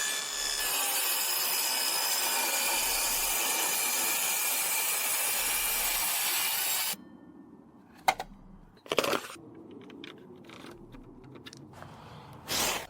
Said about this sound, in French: vous pouvez installer votre scie sur rail et effectuer votre coupe